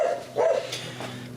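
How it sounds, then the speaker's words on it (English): A dog named Max gives two short, close barks in quick succession, followed by a fainter yip, over a low steady hum indoors. "Max, stop your barking."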